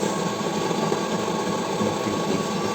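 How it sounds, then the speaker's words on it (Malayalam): An espresso machine grinds coffee beans in a steady, loud, continuous whir with a mechanical hum and no talking. "കോഫി ബീൻസ് ആ പൊടിയിലെ സൗണ്ട് നമ്മുടെ ശബ്ദം"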